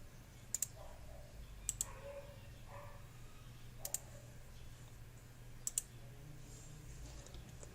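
Sharp computer mouse clicks while working in CAD software, arriving as isolated single and double clicks spaced a second or two apart over a low steady hum.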